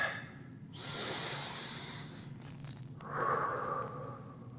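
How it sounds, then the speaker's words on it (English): Deep yoga breathing during a Sun Salutation B sequence: a long, loud hissing inhale through the nose, then a softer, breathy exhale, heard close and alone. "Arms up all the way as high as we can. Looking to the front of our mat. 3 big breaths."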